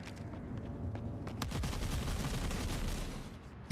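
20 mm turrets fire in the video game The Forever Winter, a loud, rapid burst of closely spaced gunshots and heavy booms that clusters in the middle and then tapers off.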